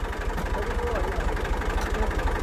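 A tractor engine idles with a steady, throbbing low rumble while the tractor reverses, loud and constant throughout.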